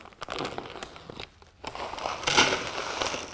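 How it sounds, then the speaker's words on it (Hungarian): Plastic bag of carp fishing bait additive torn open by hand, a dense crinkling and ripping rustle that swells louder toward the end, with no talking. "A zacskó felbontása után"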